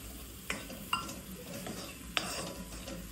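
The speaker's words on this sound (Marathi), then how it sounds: "हे टाकून चांगलं परतून घ्यायचं आहे।" Something being sautéed and stirred in oil in a pan, with a soft continuous sizzle under three sharp utensil scrapes or clinks against the pan.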